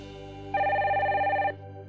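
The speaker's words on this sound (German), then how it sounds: "Oh, das Telefon klingelt." A single telephone ring, a bright electronic trill lasting about a second, sounds close and clear over a quiet indoor background.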